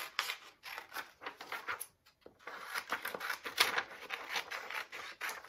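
Scissors snip through paper for a 3D constellation craft piece in a steady run of close, crisp cuts, with a brief pause partway through and no talking.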